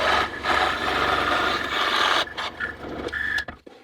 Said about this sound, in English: I'm using the scroll saw.